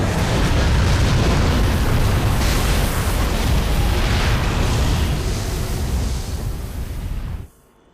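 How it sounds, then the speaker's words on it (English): A muted, rumbling explosion as Sin crashes into the city of Bevelle in Final Fantasy X, a loud, dense roar that holds steady for several seconds and then cuts off abruptly. "I love the sound of that just muted explosion as he just tanks into Bavel."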